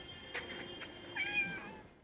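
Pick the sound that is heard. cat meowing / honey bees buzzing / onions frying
cat meowing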